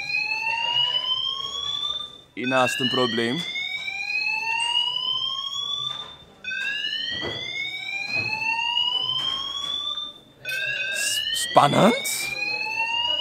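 A building fire alarm sounds a repeating pattern of rising electronic sweeps in bursts with short gaps between them, loud and close. People talk over it.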